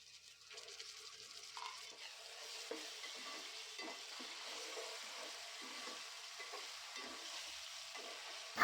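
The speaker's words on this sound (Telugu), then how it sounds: "అల్లం వెల్లుల్లి పేస్ట్ కొంచెం వేగిన తర్వాత" Ginger garlic paste fries with onion and green chilli for a Telugu fish curry, a soft, even sizzle at low volume with gentle, repeated stirring scrapes throughout.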